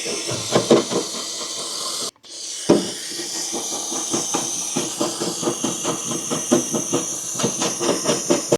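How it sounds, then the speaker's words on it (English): A loud, continuous hiss of a steamer held close on a car window, briefly cut off once, with rapid rhythmic sputtering pulses running throughout. "So we're gonna first heat it up with steam."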